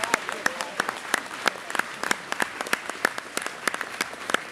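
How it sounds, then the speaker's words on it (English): Concert audience at Mac Birmingham applauds at a comedy music show, a lively burst of many hands clapping with distinct sharp claps standing out near the listener, continuous for the whole stretch. "Please give yourselves a gratuitous round of applause on our behalf."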